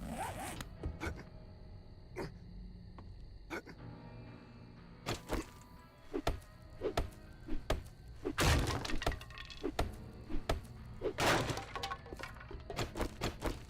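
Mining and harvesting resources in the survival video game 7 Days to Die: a series of sharp, crunching tool impacts and breaking, cracking hits in an irregular rhythm, close and fairly loud over a constant game background drone.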